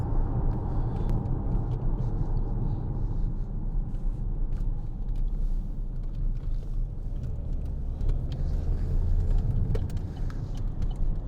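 A 2014 Vauxhall Insignia 2.0 CDTi SRi diesel hatchback accelerates on the road, a steady low engine rumble and road noise from inside the cabin, moderately quiet with no talking.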